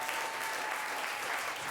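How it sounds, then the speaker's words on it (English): An audience gives a warm round of applause for volunteers at an August 2007 evening show, dense even clapping from a large crowd, steady throughout and without speech. "how about a great big round of applause for our volunteers?"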